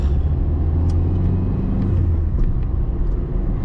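A car's engine drones steadily with a low rumble while driving, a turbo faintly whistling as it spools up over continuous road noise, heard from inside the cabin.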